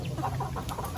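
Chickens cluck softly nearby in a short, faint burst of several overlapping calls, with no voices.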